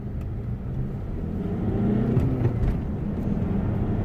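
A Honda CR-V i-DTEC diesel with a fault that had put it in limp mode drives along the road, its engine and road noise a steady low rumble heard from inside the cabin, with no talking.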